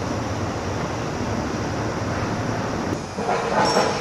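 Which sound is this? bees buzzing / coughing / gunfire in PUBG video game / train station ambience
train station ambience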